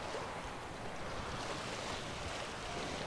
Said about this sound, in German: Gott sei Dank ist ja der Wind gekommen.